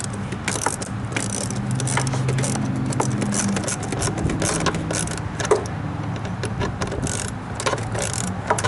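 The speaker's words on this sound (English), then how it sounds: "Once everything's in place, start tightening down the hose clamps." A ratchet tightens hose clamps with an 8mm socket on a Cadillac CTS 3.6L V6 during an alternator replacement, giving a run of quick, close mechanical clicks and metallic taps over steady background noise.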